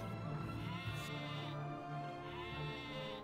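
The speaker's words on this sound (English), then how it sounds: "Look. A sheep." Sheep bleating in Dragon Quest VIII: Journey of the Cursed King, a steady wavering game-sound cry running through the whole short stretch at a fairly quiet level, with no talk over it.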